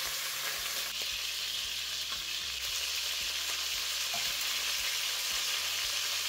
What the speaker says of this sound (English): Add the beef chuck steak pieces in batches and start searing until they are browned on all sides.